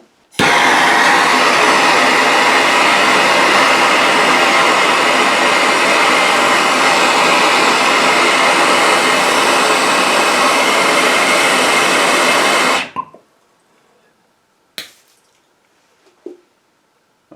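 A torch roaring steadily and loud while heating a brass adapter fitting for soldering a broken pipe repair, cutting off abruptly, followed by a couple of sharp clicks.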